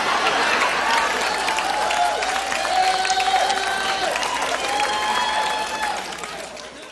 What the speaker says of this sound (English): that guy screaming yes with that huge round of applause